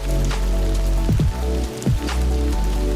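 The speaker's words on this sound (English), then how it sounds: "It's raining, and I don't need your help." Steady rain falls on a surface throughout, a dense continuous patter under a low rumble, with a few brief sliding tones breaking through near the middle and end.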